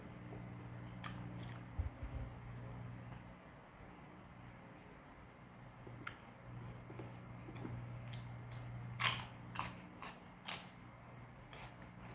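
Someone eats crunchy food, making a cluster of crisp, close bites and crunches toward the end over a faint steady background hum, with no speech.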